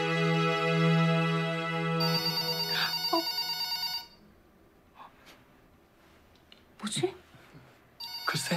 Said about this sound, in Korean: 여보세요? 김태주 씨 되십니까?